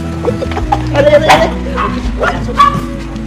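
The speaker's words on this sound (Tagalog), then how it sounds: "May aso dito, malaki." A large dog barks several times in short, uneven bursts nearby, mixed with whimpering yips, while a person talks and engine noise hums underneath.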